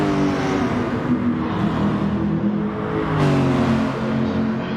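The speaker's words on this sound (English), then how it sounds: "Chris should have shown some good pace down that straight with the Lamborghini." A Lamborghini race car in a racing video game holds a loud, continuous engine drone at high revs, its harmonic tone sliding and shifting with gear and throttle changes, with no voices over it.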